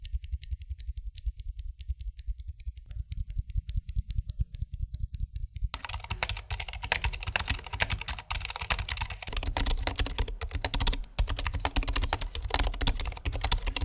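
Typing on a keyboard fitted with lubed Zeal Zilent V2 silent tactile switches, a steady stream of soft, muted keystrokes up close, rapid and continuous with no talk.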